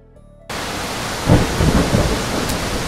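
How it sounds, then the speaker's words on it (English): Steady rain and deep rumbling thunder in the role-playing game Realms of Arkania: Star Trail start abruptly after a short quiet lead-in. A heavy, loud roll of thunder swells under a continuous wash of rainfall. "And of course it's raining."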